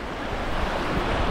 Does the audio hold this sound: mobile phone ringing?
no